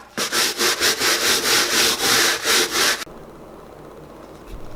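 A brush scrubs dirt off a shoe in about ten quick, rhythmic back-and-forth strokes, loud and close, then stops, leaving a quiet room.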